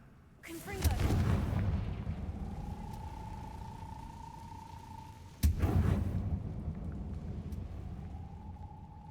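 Two fiery Confringo blast spells burst in Hogwarts Legacy, each a sharp crack swelling into a roaring rumble that fades slowly, with a faint tonal hum lingering between them.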